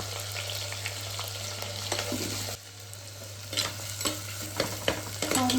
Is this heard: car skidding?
no